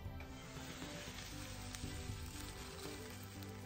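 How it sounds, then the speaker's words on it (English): Sauce reducing in a pan beside a blackberry herb crusted pork loin, giving a soft, steady sizzle and bubbling crackle with no break, faint and close, and no voices. "I'm gonna let this simmer for about 10 minutes and let it reduce just a bit"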